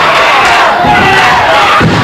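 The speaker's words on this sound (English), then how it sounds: "Everybody in Championship Wrestling studio here is cheering for the King" A studio crowd at a Championship Wrestling taping cheers and yells loudly for the King, a dense, continuous roar of voices.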